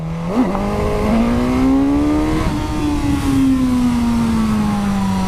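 A tuned Euro 5 motorcycle engine on a race track rises and holds at high revs, a loud, close, continuous drone with a brief upshift near the start and no talk.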